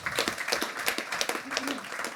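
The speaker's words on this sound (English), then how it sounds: "Round of applause" Audience at a hospitality tech panel discussion gives a brief round of applause, a dense patter of many hands clapping at moderate distance, fairly quiet.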